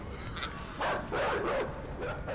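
Dogs bark and yelp in the side-scrolling video game Inside, a few short bursts over dark, rumbling ambient game sound, with no talking.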